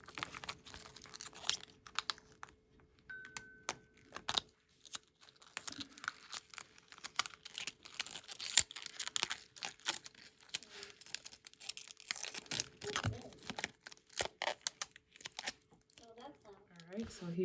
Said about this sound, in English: start weeding everything up, and it should be able to peel very easy